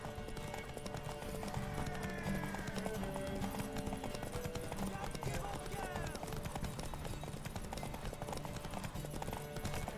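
Hooves clip-clop in a rapid galloping rhythm during a horse race in The Witcher 3: Wild Hunt, over a busy game soundtrack, with a brief horse whinny and voices talking underneath.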